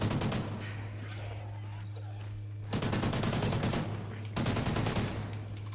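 Automatic gunfire in Call of Duty: Ghosts, two long rapid bursts of machine-gun shots after an opening volley, loud and close over a constant low game hum, with faint voices in the mix.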